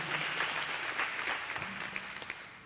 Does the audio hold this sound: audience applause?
yes